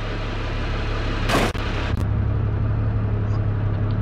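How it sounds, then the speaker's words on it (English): A bus in BeamNG.drive pulls forward with a steady low engine drone close up, broken by a brief rushing whoosh and a quick knock partway through. "So now we're gonna pull the bus forwards."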